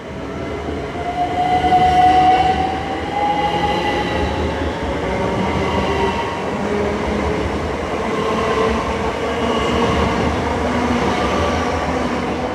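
Class 387 electric unit 387143 pulls away from Twyford station on the Great Western Main Line, a loud, steady rumble of wheels and traction with a rising whine that holds close for the whole stretch, no voices.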